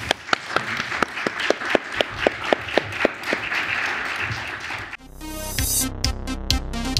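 An audience at a round-table talk applauds the four speakers, a few distinct claps swelling into a dense burst of clapping, then cut off abruptly and followed by a musical tone.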